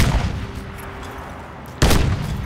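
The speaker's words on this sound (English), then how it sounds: "maybe if I throw enough grenades" A grenade explosion in the video game Crysis lands as one sudden, loud, booming blast near the end, after a low rumbling lull and another heavy burst at the start.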